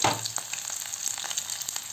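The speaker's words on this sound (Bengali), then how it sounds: "তারপরে আমরা দিয়ে দিচ্ছি সামান্য কেটে রাখা পেঁয়াজ" Chopped onion and dried red chilli hit hot oil in a pan, a loud burst of sizzling right at the start that settles into a steady close crackle throughout.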